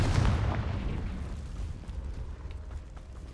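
The Confringo fire spell in the Hogwarts Legacy video game bursts in a loud, booming explosion that rolls off into a long, rumbling decay.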